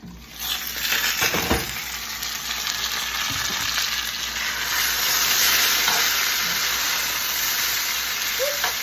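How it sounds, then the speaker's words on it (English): Potato hash sizzles steadily in a frying pan, with a few scraping stirs of a utensil early on and a constant loud hiss throughout, no voices. "I need to stir these potatoes"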